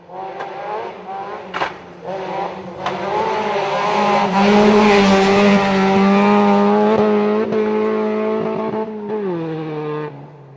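A rally car driven hard on a special stage at Elibank, its engine screaming loud and close as it revs through gear changes, rising to a sustained roar before the pitch drops as it passes, with tyres scrabbling on the surface.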